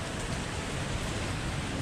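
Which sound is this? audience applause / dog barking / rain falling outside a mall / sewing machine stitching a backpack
rain falling outside a mall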